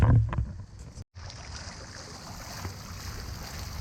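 Fountain water flowing steadily outdoors as a continuous, moderately loud wash that starts after a brief rustle and a short break at the opening.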